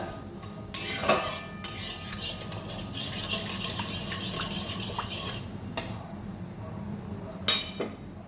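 Cooked rice tipped into a pan of fried cumin and stirred on lowered gas for Maharashtrian jeera rice, with metal spoon clinks and scraping against a low sizzle, sharp clatters near the start and again near the end.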